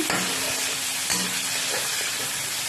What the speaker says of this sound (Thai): ใส่เนื้อสับลงไป ผัดให้หอม